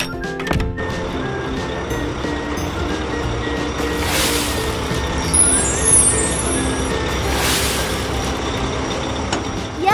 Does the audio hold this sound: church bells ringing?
no